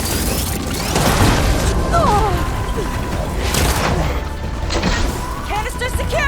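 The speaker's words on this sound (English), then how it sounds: "Explosive hit!" Explosive blasts from a combat encounter in Horizon Forbidden West, booming loudly amid crashing impacts and whistling game effects, with a voice calling out over the action.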